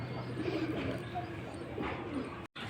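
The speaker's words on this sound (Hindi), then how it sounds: "देखो सफ़ेद मकोया कबूतर है और ये जोड़े वाला कबूतर है भाई।" A white pigeon coos softly in a loft, low murmuring calls faint beneath steady background hum, with a brief dropout near the end.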